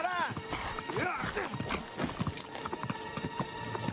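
A horse gallops with rapid clip-clop hoofbeats and whinnies in the video game Uncharted 3, close and loud, while a voice talks over it.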